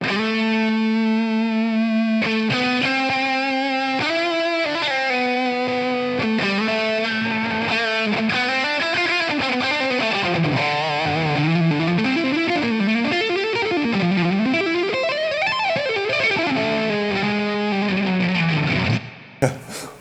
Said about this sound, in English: So delay plus reverb, it sounds like that.